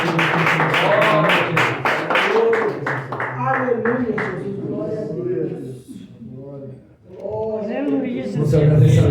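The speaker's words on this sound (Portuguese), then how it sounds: "E as palmas em grande somente no nome do Senhor Jesus" A church congregation claps in rhythm at a prophetic worship service, the beat strongest in the opening seconds and then fading under a singing or speaking voice and sustained music.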